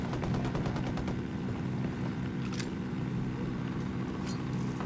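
Sustained machine gun fire in the tactical shooter video game Ghost Recon Wildlands, a dense, steady stream of rapid shots at a constant loud level with a few sharper cracks overhead.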